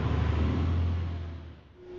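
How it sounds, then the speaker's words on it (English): Passing traffic in a city street, a vehicle's low engine rumble swelling nearby and then fading away over about two seconds, with no voices. "Listen. What do you hear? It's the city."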